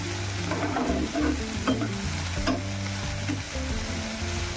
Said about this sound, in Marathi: छान असं परतून घ्यायचं आहे.